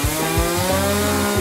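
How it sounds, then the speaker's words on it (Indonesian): A saw grinds through a very hard piece of food in an eating challenge, a rough, steady rasp with repeated strokes, loud and close, with no talking. "Gergaji akan menyelamatkanku."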